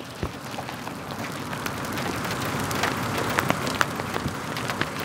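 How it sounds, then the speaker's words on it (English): Pea-size hail falling during a hailstorm in Beaudesert, heard as a dense, steady patter of small impacts with sharp clicks scattered throughout, close and fairly loud. "You can just see all the hail."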